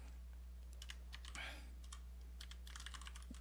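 Keystrokes on a computer keyboard while commands are entered into the Emacs editor on a Surface Pro, heard as faint, scattered clicks in short clusters over a steady low electrical hum.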